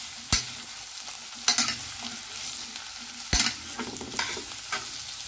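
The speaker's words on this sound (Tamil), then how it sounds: "போட்டுட்டு இதை நல்லா வதக்கணும்." Chopped bottle gourd sautéing in a pan produces a steady close sizzle broken by several sharp scraping stirs of a spoon against the pan.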